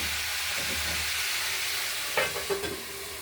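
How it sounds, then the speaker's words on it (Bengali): Vegetables (red potato, pumpkin, flat beans, cauliflower, drumstick, stem greens and brinjal) fry in a pan with a steady broadband sizzle, a few stirring scrapes and clinks near the end. "নেড়ে চেড়ে আরেকবার ভেজে দেবো।"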